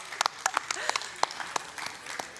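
Audience applause at a bilingual church gathering: scattered, uneven claps from a smaller group, sharp individual hits standing out, with voices talking and calling out over them.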